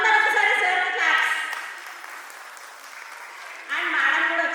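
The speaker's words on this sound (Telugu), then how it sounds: "సో అందరూ ఒకసారి సార్ క్లాప్స్." Audience applause at a women's club Bathukamma celebration, a loud burst of clapping that fades and then swells again near the end, with a voice speaking over it.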